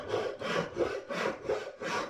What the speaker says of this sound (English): use a flush cut saw to flush these off